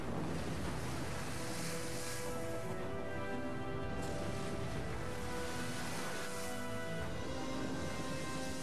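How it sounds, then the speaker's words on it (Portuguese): Stormy Southern Ocean at 60 degrees south, with heavy waves and gale-force winds buffeting the sea; a steady, dense roar of surf and wind noise runs unbroken throughout, with no voices. "São os vendavais da latitude 60, os mares mais agressivos da Terra"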